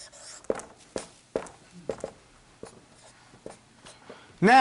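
Pen or marker writing on a board during an Arabic grammar lesson, a series of quick, close scratchy strokes in an uneven rhythm, with a voice starting right at the end.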